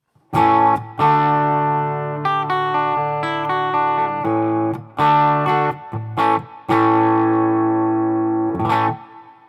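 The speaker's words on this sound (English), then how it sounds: "let's go ahead and turn on the reverb" Distorted electric guitar chords ringing through an amp with reverb, sustained notes and a few restruck chords, loud and upfront, no voices.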